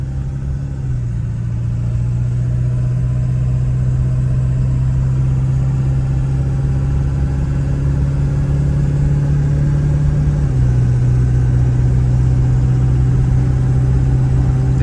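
A 2000 Ford Excursion Limited with a 7.3L Powerstroke diesel drones steadily while driving, its engine tone stepping down as the automatic transmission shifts, with no talking over the continuous rumble.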